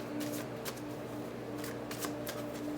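A tarot card deck is shuffled close by, a run of crisp riffling flutters and snaps in irregular bursts, over a low steady background hum with no talk.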